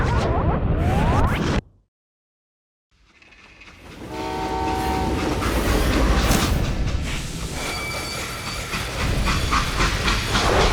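A freight train in the western video game Call of Juarez Gunslinger rumbles loudly with hissing steam, a sounding horn and clanking wagons, after a short abrupt silence, continuing as a dense mechanical roar with no talk.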